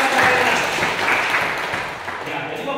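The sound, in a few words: applause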